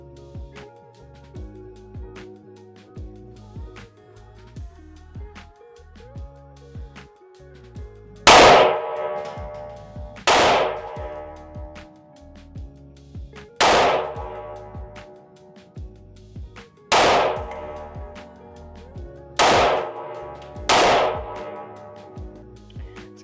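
Glock 43X MOS pistol fired at an outdoor range: six sharp shots with ringing tails, spaced a few seconds apart, over a steady low mechanical hum.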